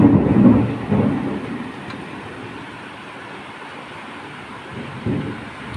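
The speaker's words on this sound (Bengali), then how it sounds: "এত মেঘ ডাকছে, বিদ্যুৎ চমকাচ্ছে।" Deep thunder rumbles through a heavy afternoon rainstorm, loudest at the start and fading into a low, continuous roar of rain with a second swell near the end.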